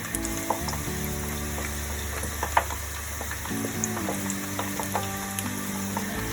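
Dahi bhalla vadas deep fry in hot oil with a steady, soft sizzle and bubbling, joined by a few faint clinks and stirring sounds.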